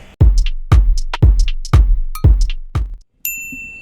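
A series of sharp percussive hits with ringing tails, six in quick succession, followed by a bright high notification-bell chime that rings on alone.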